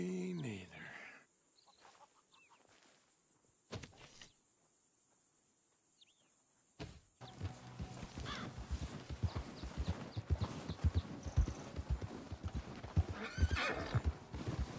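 A horse in Red Dead Redemption 2 gives a quiet whinny and snorts over a faint cricket-filled night, then its hooves clip-clop in a steady close walking rhythm.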